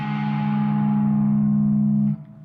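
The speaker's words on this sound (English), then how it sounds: "It's an interval created by playing 2 notes 6 half steps away from each other." A sustained, distorted electric guitar tritone dyad, two notes six half steps apart, rings out for about two seconds, then is cut short, leaving a faint decaying tail.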